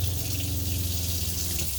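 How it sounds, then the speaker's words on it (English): Water runs steadily from a tap fed by a freshwater tank and demand pump, a constant close splashing stream with a low pump hum beneath it. "You would turn the pump on, run the water"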